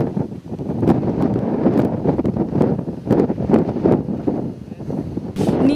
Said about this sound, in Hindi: और उस as of the Cliff face पर इतनी तेज हवाएं